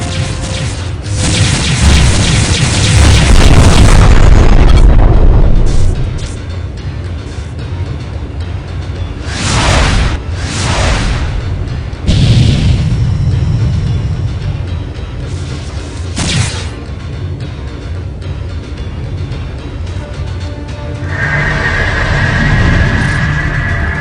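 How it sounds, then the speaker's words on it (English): Dumbfire missile explosions in the space combat game Freespace 2: a long loud rumbling boom at the start, followed by several sharper blasts and crashes over a low engine drone, with a rising tone near the end. "Dumbfire missiles."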